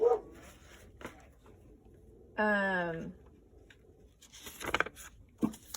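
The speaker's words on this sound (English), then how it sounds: "our dog sounds vicious" A dog lets out one drawn-out, growly bark that drops in pitch, heard indoors among scattered handling noises and quiet talk.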